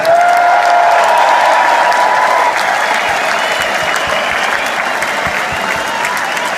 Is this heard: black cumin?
no